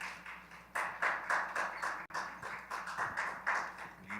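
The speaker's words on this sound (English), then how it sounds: "Let's clap him up." Church audience clapping, a light scattered round of applause in rhythmic bursts, fairly quiet and brief with a short pause in the middle.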